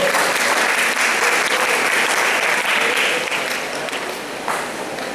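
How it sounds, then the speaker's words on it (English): An audience in a school setting, grade 9 students welcoming a doctor lecturing on pulmonary and cardiovascular disease, applauds loudly and steadily, the dense clapping fading slightly toward the end. "let's give a big round of applause to Dr. Ethel Marie Locson."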